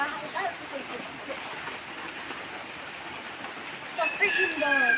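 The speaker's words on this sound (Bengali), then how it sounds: "দেখুন হালকা হালকা করে বৃষ্টি পড়ছে" Light rain patters steadily outdoors after a heavier shower, a soft even hiss throughout. Near the end a brief voice or tonal sound rises over it.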